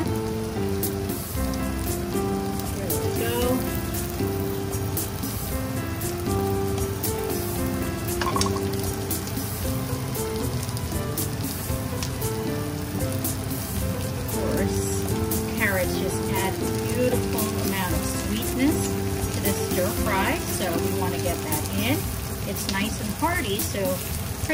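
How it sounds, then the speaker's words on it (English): Carrots tossed into a hot vegetable stir-fry pan sizzle and crackle steadily with scattered spatters, while a person talks over the cooking throughout. "let's go ahead and add those carrots in"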